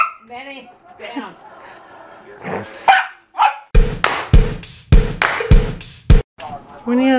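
A dog barks sharply at dogs on a TV several times in quick succession, loud and close, after some earlier whining and a person speaking.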